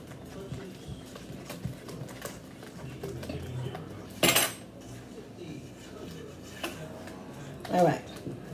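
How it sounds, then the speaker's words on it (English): Banana bread batter being mixed with egg and vanilla, with a utensil scraping and knocking around a bowl in scattered soft clinks, plus two louder scrapes, while a person talks quietly nearby. "scraping down the sides of the bowl until well combined"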